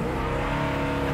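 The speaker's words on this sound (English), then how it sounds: "Listen to that four barrel kick in." A 1967 Chevrolet Impala SS with a big block V8 and four barrel carburetor revs hard, a loud, close, continuous engine roar with no talking over it.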